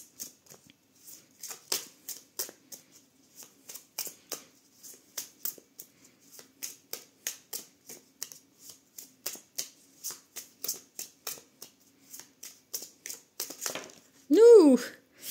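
Tarot cards are shuffled for a weekly card reading: a long run of rapid, crisp riffling clicks in a steady rhythm, close and clear, ending with a brief vocal sound.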